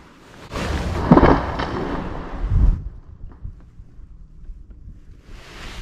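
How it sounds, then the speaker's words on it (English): A massive tree crashes down in a forest behind a lakeside spot, a sharp shotgun-like crack followed by a heavy rumbling thud, then quieter rustling and faint outdoor ambience. "Wow, a massive tree just fell in the forest behind me. Sound like a shotgun going off."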